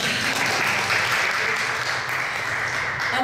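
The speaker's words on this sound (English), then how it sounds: "Applaud." An audience at a film archive opening ceremony in Belgrade applauds in a sustained, even wash of clapping that holds at a steady level throughout.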